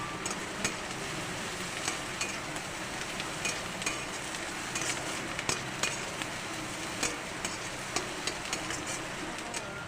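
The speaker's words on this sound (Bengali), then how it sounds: "পেঁয়াজটা ভাজা হয়ে গেছে" Onions fry in a pan with ginger, garlic and chilli, giving a continuous sizzle broken by regular scraping and tapping of a spatula stirring close by.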